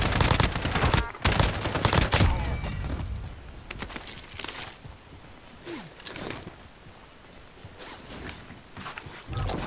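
Heavy gunfire and bursts of automatic weapon fire in a Call of Duty Modern Warfare (2019) multiplayer match, with shots and clanks rattling densely throughout, loud and continuous.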